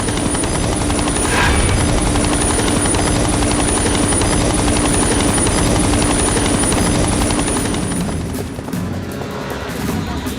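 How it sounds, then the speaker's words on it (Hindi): A helicopter flies close overhead, its heavy rotor roar and whine loud and steady for about eight seconds before easing slightly toward the end. "हेलीकॉप्टर की आवाज से कहीं वो तुम्हारी बहन को नुकसान न पहुंचाए।"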